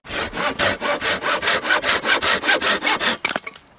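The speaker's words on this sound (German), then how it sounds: "Dann gucken wir mal, was die Säge leisten kann." A hand saw cuts storm-fallen dry pine outdoors with about fifteen quick, even strokes in a steady rhythm, loud and close, ending abruptly as the cut finishes.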